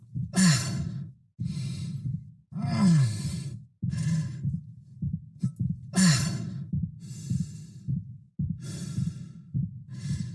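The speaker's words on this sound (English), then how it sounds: "we start to introduce little winces of pain mixed into his breathing cycle" Injured Isaac in the Dead Space remake video game, with pained breathing: a series of close, heavy breaths, groans and winces in an uneven rhythm, separated by brief pauses, with no speech.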